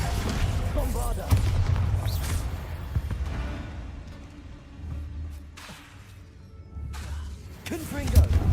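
In Hogwarts Legacy combat, the Bombarda spell sets off deep booming blasts amid whooshing spell effects and crashes. A voice speaks between the repeated low explosions.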